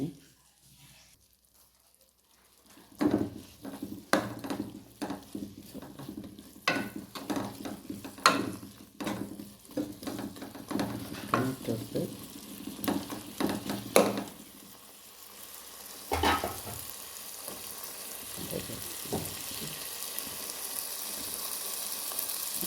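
Chopped chicken sizzles and fries in a pan while being stirred for a lunch box macaroni dish, a close, steady crackle broken by repeated scraping and clinking of the utensil.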